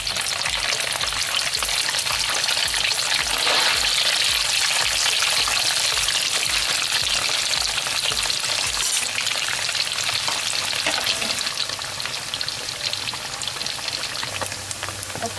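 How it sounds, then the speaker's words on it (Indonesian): Beef frying in a pan for dendeng batokok, a steady loud crackling sizzle throughout with occasional stirring, no talking. "Sekarang goreng daging."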